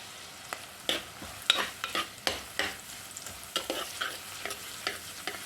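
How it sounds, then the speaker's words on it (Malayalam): Green chilies and curry leaves sauté in a pan with onions for prawn theeyal, a soft sizzle broken by a series of quick scraping stirs at irregular intervals, close and quiet, with no talking. "ഇനി ഞാൻ ഇതിലേക്ക് ഒരു 4 പച്ചമുളക് ഒന്ന് ചേർത്ത് കൊടുക്കുന്നുണ്ട്. നന്നായിട്ട് നമുക്ക് വഴറ്റിയെടുക്കാം."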